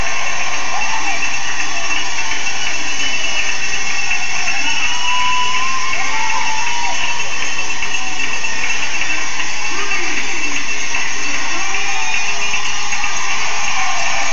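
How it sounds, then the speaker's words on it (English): A hockey crowd at the Toyota Center roars in a steady, distant wash after the Tri-City Americans tie the game against the Chiefs, heard beneath a broadcaster talking. "Waiting for the official announcement as the crowd here in the Toyota Center cheers."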